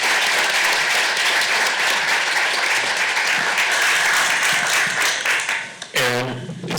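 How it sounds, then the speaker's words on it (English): An audience at an author panel on books about character and the professions applauds in a dense, sustained round that fills the room, ending with a short burst of voice-like tonal sound near the end. "If you can join me in a round of applause."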